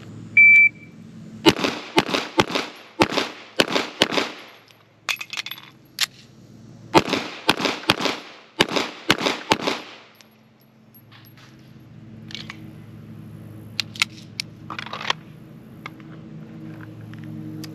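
A pro shot timer beeps to start a firearms drill, followed by rapid strings of sharp gunshots in bursts with pauses between, loud and close, then quieter shuffling.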